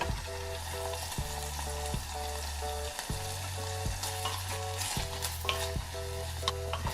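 Onions frying in a pot as the base for Korean spicy soft tofu stew, a soft steady sizzle with repeated rhythmic stirring scrapes, quiet and close, no speech.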